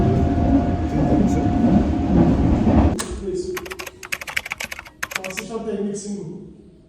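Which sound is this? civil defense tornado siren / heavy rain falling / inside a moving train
inside a moving train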